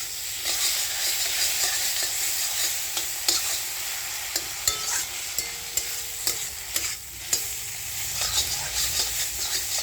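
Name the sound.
green chillies and spices frying in a pan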